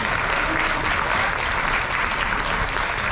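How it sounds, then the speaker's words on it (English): Loud, dense applause from a large crowd of cruise passengers at a shipboard party, a continuous even roar of clapping with no voices on top. "So a big round of applause goes to all of you."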